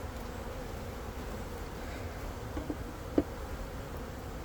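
Honeybees buzz as a steady, low, droning swarm hum throughout a busy hive inspection, with a faint click or two of handling partway through and no talking.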